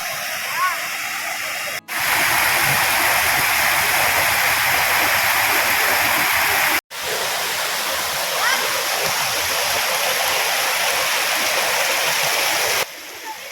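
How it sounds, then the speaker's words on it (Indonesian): Steady broadband rush of a clear mountain river on the slopes of Mount Merapi, loud and continuous, with two brief dropouts partway through. "Oke, saatnya yang ditunggu-tunggu, yaitu bermain di sungai."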